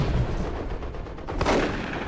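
Gunfire from a tactical squad in the Warhammer 40,000 game Dawn of War II: Chaos Rising, a dense, noisy burst of shots and explosions with a louder swell near the end.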